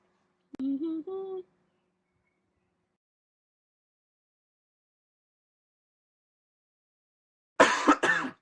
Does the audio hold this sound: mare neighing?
no